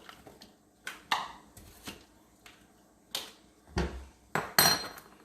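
A metal spoon scrapes and clinks against a bowl while scooping apple cocktail, giving about ten separate close taps and scrapes, some sharper and louder, with no talking.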